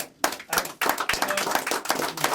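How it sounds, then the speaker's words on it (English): Applause for Dan Foster from a small gathering of E Clampus Vitus members: a close, dense burst of hand clapping that keeps going steadily for a couple of seconds. "round of applause for Dan Foster"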